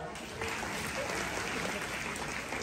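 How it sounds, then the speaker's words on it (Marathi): Audience applause on a Marathi Home Minister Khel Paithanicha game show, cheering a woman contestant. Dense, steady clapping from a close crowd runs the whole short stretch, with some voices mixed in. "या वहिनीसाठी जरा टाळ्या वाजवा."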